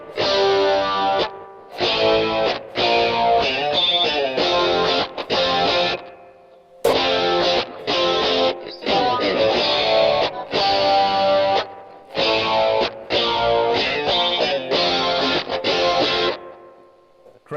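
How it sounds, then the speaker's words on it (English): Distorted electric guitar through a Rockman amp, thick saturated chords with chorus and echo coloring, played in choppy bursts separated by short gaps, loud and up close. "So that's a distortion sound."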